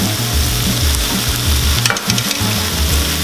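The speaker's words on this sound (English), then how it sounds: "That's sizzling." Loud, steady sizzling of eggplant frying in a hot pan, with a brief clatter of stirring in the middle.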